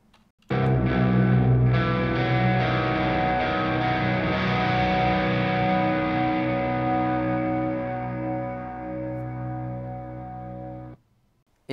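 A single guitar chord strummed once and left to ring, thick and sustained with reverb and delay, slowly fading over about ten seconds before cutting off.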